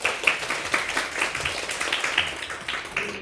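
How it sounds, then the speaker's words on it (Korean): A presentation audience gives a short round of applause, moderate and fairly sparse with distinct individual claps, steady for a few seconds and heard alone without talk. "박수 좀 부탁드립니다."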